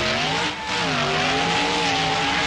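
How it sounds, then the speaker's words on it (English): A big-block dump truck in BeamNG.drive running 23 pounds of boost revs hard while its tires spin in sand, a loud, sustained engine drone with wavering pitch and a brief dip. "23 pounds of boost, and we are just sitting here just spinning the tires"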